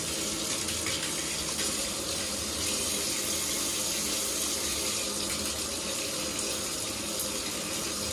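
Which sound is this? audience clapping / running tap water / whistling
running tap water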